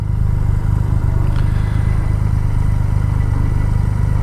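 A Triumph Rocket 3 motorcycle engine idling close by with a deep, steady, even throb and faint mechanical clatter, alone and unchanging throughout.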